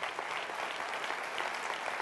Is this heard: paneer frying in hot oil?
no